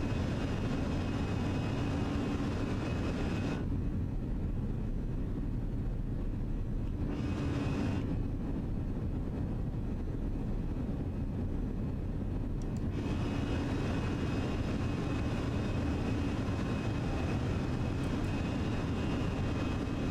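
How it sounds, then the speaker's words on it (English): Jet engines of a Fenix A320 roar at climb thrust in Microsoft Flight Simulator on a flight from Edmonton to Vancouver, a loud steady rumble and whine that thins and returns twice over about twenty seconds. "Thrust climb, auto throttle kicking in."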